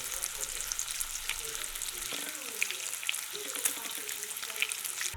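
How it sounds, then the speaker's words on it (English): Bacon sizzling and frying in a pan, a soft, steady crackle with scattered pops, heard close and alone. "we're gonna fry up some bacon"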